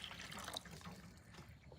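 Water is poured into the cooling system of a Hemi engine swapped into a Grand Wagoneer, a steady, faint hissing trickle with no voices.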